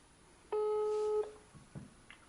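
A single telephone ringback tone, one steady electronic beep of about a second, heard faintly through a phone while calling a tow truck, followed by quiet background.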